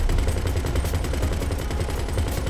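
An aircraft-mounted machine gun in GTA Online fires a rapid, continuous stream of loud, close shots, with no pauses.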